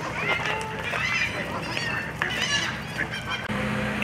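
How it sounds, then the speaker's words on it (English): Mallard ducks at a Sarasota, Florida garden give repeated honking quacks at close to middle distance, in scattered bursts over a busy outdoor background. "Got some cute ducks"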